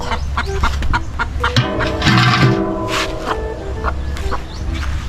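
Several chickens cluck and squawk nearby, overlapping calls over a busy background of clatter and household noise.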